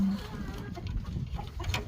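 Pet chickens in a coop on a cold day give faint, scattered clucks at a distance, with soft rustling and light background noise between the calls.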